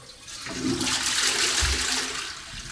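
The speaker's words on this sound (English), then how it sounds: "and I get a full flush for feces" Full flush of a dual-flush toilet in an ecological sanitation bathroom, a loud rushing gurgle of water swirling and draining for a few seconds, close and alone.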